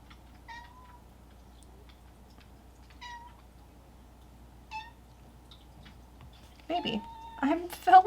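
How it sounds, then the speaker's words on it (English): A cat meows three times at spaced intervals, then lets out louder, drawn-out yowls close by, with a person speaking softly in between. "my cat is coming to bully me. You're gonna hear a lot of screaming right now"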